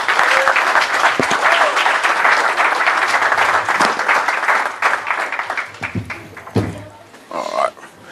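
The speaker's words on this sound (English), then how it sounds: "Give him a big round of applause." Audience applause greets a speaker introduced at a Pan-African talk: dense clapping fills the first five seconds, then thins into scattered claps and a few cheers, with some voices mixed in near the end.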